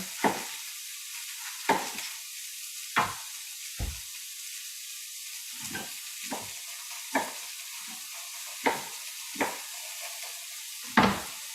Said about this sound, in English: So I'm just gonna shred a little bit of cabbage to put in there in the pan